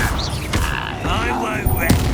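The Incendio fire spell is cast in Hogwarts Legacy: a whooshing, roaring burst of magical flame with crackling impacts, set over a busy combat soundscape with voices mixed in.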